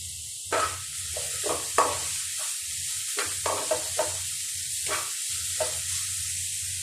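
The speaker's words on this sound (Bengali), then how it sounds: "ওটা আগে ভেজে নিচ্ছি করলা ভাজি করার জন্য" Bitter gourd (karela) frying in a pan, with a steady close sizzle and bursts of louder crackling and stirring scrapes at irregular intervals.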